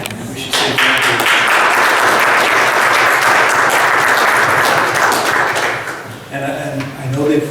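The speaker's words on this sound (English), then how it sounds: "I know they appreciate the applause" Loud, close congregational applause at a Pentecostal church weekend gathering, a dense sustained roar of many hands that dips briefly near the end before swelling again.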